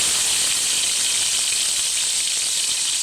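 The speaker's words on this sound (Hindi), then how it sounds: "उसके बाद तमाम मेवे जो हमने लिए थे उन्हें हल्का सा फ्राई करना है ऑयल में।" Dry fruits and nuts fry in hot oil, giving a steady, close, bright sizzle and hiss that stays even and unbroken throughout, with no talking.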